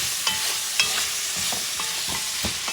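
Elk stew with carrot and pumpkin being stirred in a pot, a run of close, repeated spoon scrapes and knocks against the pan with a steady soft sizzle underneath and no talking.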